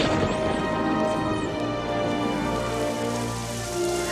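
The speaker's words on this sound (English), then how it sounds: "And the rain in the one spot." Steady rain falling in one spot during a movie scene, a dense continuous patter of drops on a hard surface, close and fairly loud throughout with no talk.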